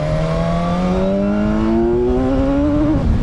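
A new motorcycle's engine revs hard and climbs steadily in pitch with a loud, smooth, continuous whine close by, then drops off at the top.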